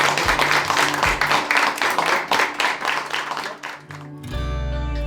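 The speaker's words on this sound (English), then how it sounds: "round of applause for these 7 seniors" Loud indoor applause for seven senior girls' basketball players, dense clapping from a room of people that tapers off toward the end as a low hum takes over.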